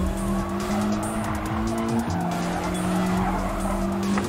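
A race car at full throttle in Gran Turismo Sport, loud sustained engine drone with shifting pitch and continuous tire squeal throughout, close and steady.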